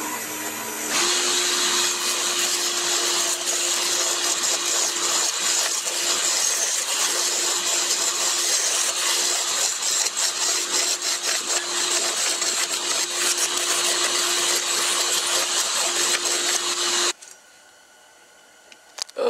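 Scorched pear wood being turned on a lathe for a predator game call, a steady loud whirring drone with a constant hum running without a break for about seventeen seconds, then dropping to quiet.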